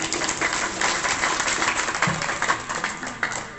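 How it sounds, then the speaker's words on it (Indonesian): A gathering at a Hindu temple event in Nganjuk breaks into scattered, fairly faint applause, uneven clapping from a modest crowd heard without clear speech. "saya minta tepuk tangannya dulu"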